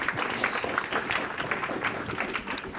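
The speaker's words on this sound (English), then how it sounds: "let's give a round of applause for Hain and Martin" An indoor audience at a talk applauds two speakers, a dense, steady round of clapping from many hands that holds at an even level throughout.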